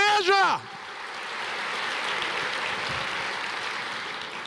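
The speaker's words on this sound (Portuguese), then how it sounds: "Aplauda o Senhor." A church congregation breaks into applause right after a brief spoken phrase, a broad steady wash of many clapping hands that holds evenly for several seconds without fading.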